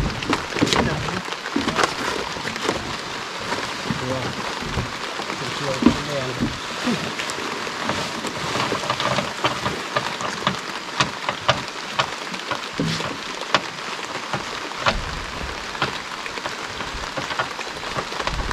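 Steady heavy rain pours down in a rainforest during a fishing trip, a dense hiss that fills the whole stretch with scattered louder drops and occasional knocks, while a person talks intermittently under it.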